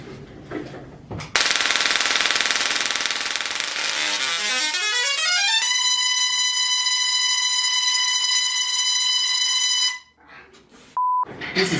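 Tesla coil driven with a single steady electrical tone while a lamp is wired in circuit, a loud buzzing roar whose pitch sweeps up then holds as a sustained harsh whine for several seconds before cutting off abruptly.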